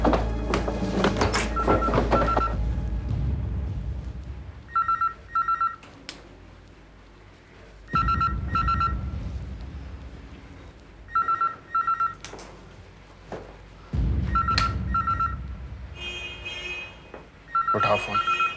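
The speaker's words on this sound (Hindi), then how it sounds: "उठाओ फोन।" An indoor landline telephone rings in repeated double bursts with pauses between them, loud and close, alternating with heavy low rumbling and thuds. A few short speech bits show up between the rings.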